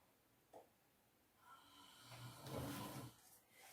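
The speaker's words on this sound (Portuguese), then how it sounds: "Gente, não liguem se a Mami estiver roncando." A woman asleep snoring softly nearby: a faint snort, then a slow, rasping inhale that builds and fades over a couple of seconds, quiet and with no talking.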